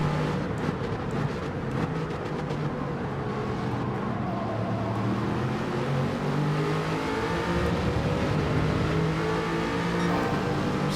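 An Aston Martin Vantage race car in Gran Turismo 7 drones steadily up close, its engine pitch rising and falling through gear changes as it laps a circuit, with no voices over it.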